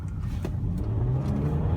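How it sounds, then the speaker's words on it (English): A 2009 Hyundai Sonata Limited's V6 engine accelerates hard, a steady rising drone heard from inside the car, loud and close, with no voices. "Wow, that's a very peppy, sporty engine."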